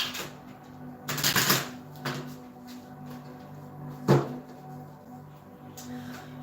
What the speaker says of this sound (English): Okay, one more little shuffle.